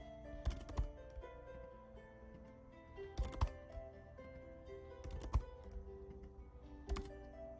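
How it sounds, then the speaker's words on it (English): Fingers type on a computer keyboard while a location is entered, sounding as short clusters of quick, faint key clicks spaced a couple of seconds apart against a quiet room background. "Just start typing in Largo, Florida."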